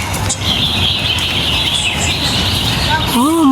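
Birds chirp over a steady, high buzzing drone outdoors in a park in Kowloon, Hong Kong, with a few clearer warbling calls near the end.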